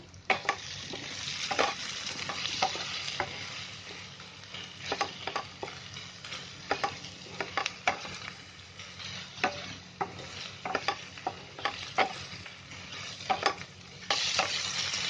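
Tomato chicken gravy being stirred and mashed in a pan over a high flame, a spoon scraping in steady repeated strokes over a soft continuous sizzle, close and fairly quiet.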